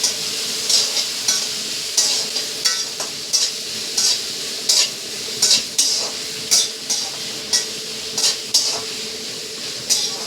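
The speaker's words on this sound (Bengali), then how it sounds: "পেঁয়াজটাকে ভালো করে একটু ভেজে নিতে হবে লাল লাল করে।" Onions frying until reddish for a Bengali mixed vegetable curry, with a constant sizzle and frequent rhythmic metal clinks and scrapes of a spoon stirring in the pan, close.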